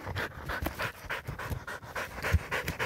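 Hunting dogs pant rapidly and close by after a boar hunt, a steady rhythmic huffing that continues throughout with no talk.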